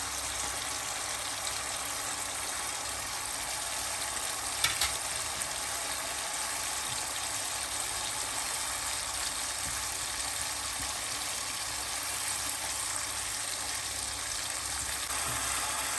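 Ginger garlic paste fries in hot oil in a karahi for quail karahi, a steady, continuous sizzle with a brief stirring clatter partway through.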